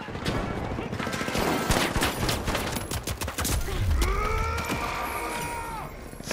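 Heavy shotgun blasts in the game The Finals, a rapid burst of sharp, loud reports crowding the first seconds amid busy combat noise, followed by ringing tonal effects and faint voices.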